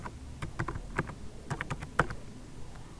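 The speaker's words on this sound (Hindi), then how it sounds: "तो मैं यहाँ पर अपना न्यू पासवर्ड एंटर कर रहा हूँ।" Keystrokes on a computer keyboard as a new Gmail account password is typed in, a quick irregular run of close, crisp clicks with short pauses, no talking.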